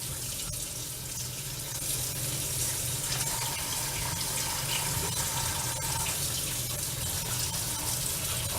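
Cold tap water runs steadily into a sink to cool freshly cooked potatoes, a continuous close hiss and splash with no speech.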